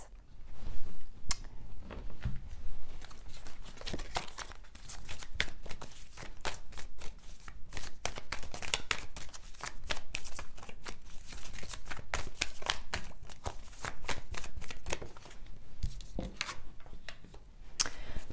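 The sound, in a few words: shuffling tarot cards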